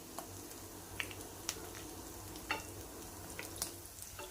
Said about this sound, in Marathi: आता हे आपण काढून घेऊ आणि बाकीचे राहिलेले ह्याच पद्धतीने शॅलो फ्राय करून घेऊ